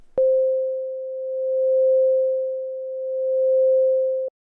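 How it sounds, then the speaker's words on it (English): A steady pure sine tone with its volume swelling and dipping slowly under another sine wave, starting and stopping abruptly, alone and loud. "We want to change the volume of this signal, and we can do that by applying a sine wave, so the volume changes at regular intervals going up and down."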